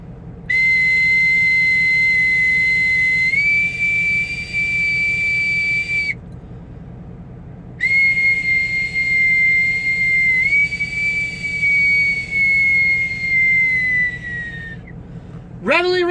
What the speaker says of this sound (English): This is a bosun's whistle.